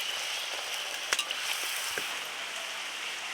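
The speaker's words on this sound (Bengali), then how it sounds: "কুড়ি মিনিট পরে আবার লুচি ভাজা শুরু করলাম আমরা।" Luchi fry in hot oil with a faint, steady hiss, broken by a few light pops and crackles. No voices are heard.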